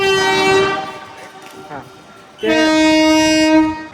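Loud harmonic horn blasts from a train at Junagadh railway station in India: a long sustained tone, a brief pause with rumble, then a second strong blast, with a short spoken word in between.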